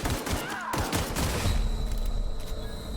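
Rapid bursts of gunfire from a first-person shooter video game, The Outer Worlds, played on hard mode, crackling loudly and continuously across the whole stretch with booming impacts mixed in.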